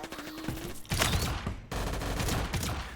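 Ray gun shots fire in rapid bursts in VRChat, dense crackling volleys with a brief pause partway through, loud and close with no talk.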